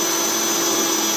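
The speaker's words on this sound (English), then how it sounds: "so drilling hole" A steady, high-pitched power drill whirs continuously at close range, drilling a hole to install handles on a Blackstone pizza oven's foldable side shelf, with no pauses and no voices.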